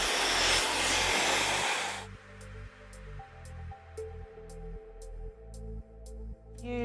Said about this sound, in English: with the heat of the hairdryer, start to create